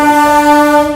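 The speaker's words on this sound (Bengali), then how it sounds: "কী সুন্দর হংকিং" A loud, sustained train horn blast at Dum Dum Junction railway station, steady and close, held for the whole second.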